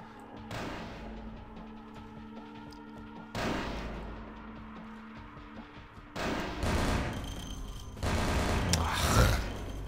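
Bursts of gunfire from the video game Vampire: The Masquerade – Bloodlines arrive as several loud, clustered volleys with short gaps between them, set over a low in-game background hum, with no talk.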